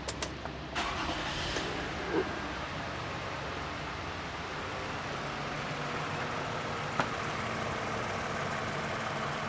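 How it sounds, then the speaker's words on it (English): A Toyota engine, damaged by a fake oil filter, cranks and catches, then settles into a steady, even idle that continues with a faint tick, heard close with no voices. "let me start the car so you can hear it, how it sounds now"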